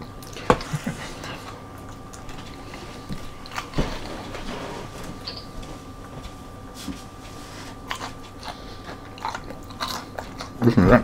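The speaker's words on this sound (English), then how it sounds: "Listen to that crunch." Crunchy bites into Applebee's Cheetos-coated boneless chicken wings, close up, with several chewing and crunching bursts spread across a quiet room and faint background murmur.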